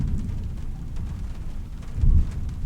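Steady rain patters with a low rumble of thunder underneath in the video game Trüberbrook, swelling briefly louder near the end; no voices.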